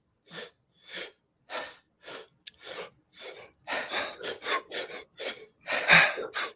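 Quick, forceful breaths drawn and released through the mouth during a breathing exercise, heard as a series of sharp, airy bursts alone in a quiet room, evenly spaced at first and then faster and louder toward the end.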